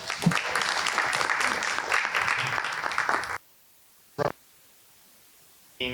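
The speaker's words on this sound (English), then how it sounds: "Another quick round of applause for our panel up here," Audience applause for a panel at a startup week event at a business center, a dense burst of clapping that stops abruptly partway through, followed by near silence with a couple of brief noises.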